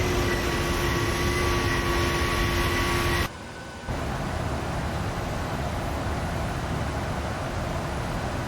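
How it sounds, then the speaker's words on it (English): A PMDG Boeing 737-800 cruising in the Prepar3D flight simulator gives a steady, even engine drone with a thin high whine, briefly dipping in level partway through before resuming. "The aircraft is flying itself nicely."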